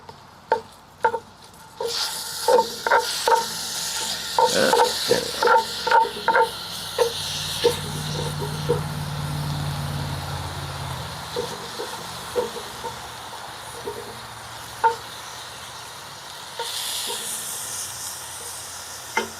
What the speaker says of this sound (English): The ground beef is starting to sizzle.